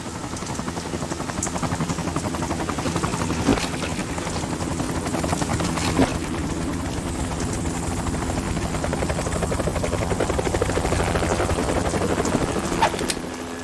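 A helicopter's rotor in Metal Gear Solid 2: Sons of Liberty thrums loudly and continuously, a steady near chopping drone with a broad mechanical whine.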